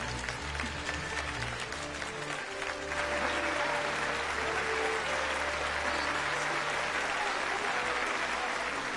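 In Final Fantasy XII, a crowd keeps up sustained applause, a thick continuous wash of clapping over a low background music drone, growing fuller partway through.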